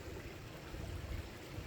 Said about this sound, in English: there's a culvert, right, of water draining out